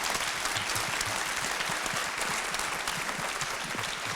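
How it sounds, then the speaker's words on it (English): An audience at a tech conference panel on serverless computing applauds the debaters, a dense, continuous burst of many hands clapping, loud and sustained with no talk over it. "let's give a huge round of applause for valiant debaters"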